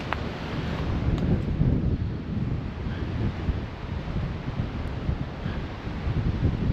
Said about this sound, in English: That wind is definitely picking up.